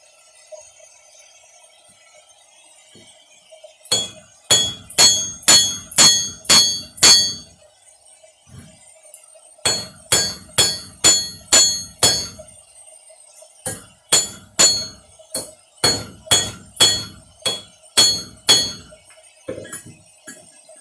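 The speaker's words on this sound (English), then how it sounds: "half your hammer is going to be hanging over the side of the anvil when you hit" A blacksmith's hammer rings out on metal over an anvil in sharp, clear blows, falling in quick bursts of about seven or eight strikes separated by short pauses, with no voices.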